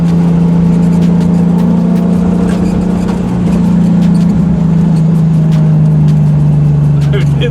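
A '65 Mustang restomod with a Coyote V8 engine swap drives past, its engine holding a loud, steady, buzzing drone that shifts slightly in pitch, with voices talking over it.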